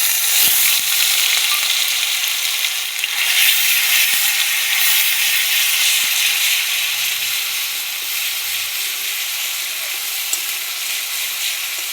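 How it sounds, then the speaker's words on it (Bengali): Ginger, garlic and green chilli paste fries in hot oil with five-spice seeds, giving a steady, close hiss and sizzle that runs on without a break, with a few faint clicks from stirring. "আদা রসুন লঙ্কার পেস্ট ভাজা হয়ে গেছে, তেল ছেড়ে দিয়েছে"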